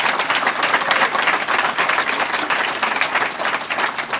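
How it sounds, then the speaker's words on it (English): A graduation ceremony audience applauds steadily, a dense, loud wash of clapping that holds throughout with no voices. "Would you please give them a big, gigantic round of applause?"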